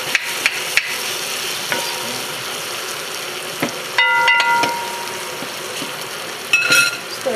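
Pieces of vegan curry goat fry in a pan while being stirred. A steady, moderate sizzle runs throughout, with occasional clear clinks and scrapes of the utensil against the pan.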